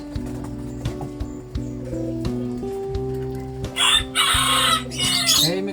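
A wild junglefowl (labuyo chicken) being handled and tamed gives nearby clucks and a rough, crow-like call toward the end, over a steady, humming background.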